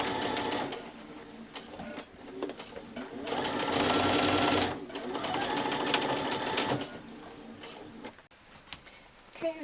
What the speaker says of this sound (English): So when I stitch this, I'm going to do a reverse at the start and a reverse at the end.